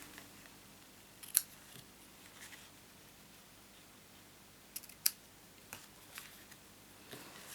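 Scissors trim the ends of paper for a handmade card in a quiet room, with two crisp snips several seconds apart and light paper rustles between them.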